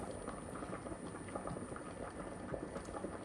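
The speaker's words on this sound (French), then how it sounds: "là je vais laisser tranquillement réduire ma sauce" Tomato cream sauce simmers and reduces in a pan with a steady, close bubbling and soft popping, a continuous quiet liquid texture with no voices.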